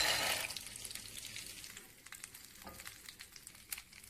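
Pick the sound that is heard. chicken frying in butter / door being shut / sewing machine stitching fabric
chicken frying in butter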